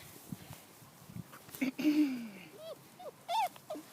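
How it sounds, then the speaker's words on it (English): Puppies about seven and a half weeks old whimper and yip in short, high, wavering cries, with a few louder squeals near the end, set against soft background noise and no talk. "Look at you guys. So cute. Puppies, puppies."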